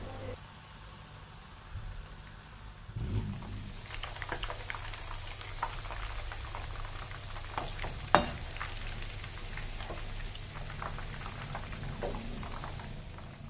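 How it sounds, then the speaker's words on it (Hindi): Chicken Manchurian pieces deep frying in hot oil give a steady crackling sizzle that rises after a few seconds, with a sharp clink partway through and the hiss running continuously. "और अब इसी तरह से बाकी के पीसेस को भी फ्राई कर लेना है।"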